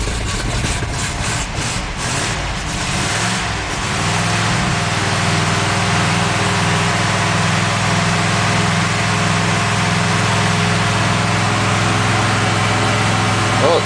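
A 1954 Ford Mainline engine running with the choke pulled out after a cold start. It begins with an uneven, pulsing chug, then settles into a loud, steady, close idle.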